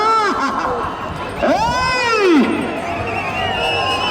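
An outdoor crowd at a bull race at a temple festival cheers and shouts, with whistles and high sweeping cries rising over the din, and an announcer speaks over a loudspeaker.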